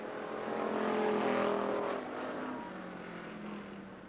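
Street stock cars racing at Lake Geneva Raceway in Wisconsin, engines roaring and revving as the pack passes close by, the loud blend swelling and then easing slightly as the cars move on.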